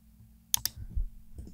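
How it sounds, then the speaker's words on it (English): Computer mouse clicks while working in 3ds Max: two quick, faint, close clicks in rapid succession, followed by soft handling noise, with no talking. "let me select all of them and click this"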